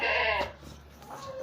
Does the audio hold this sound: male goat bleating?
yes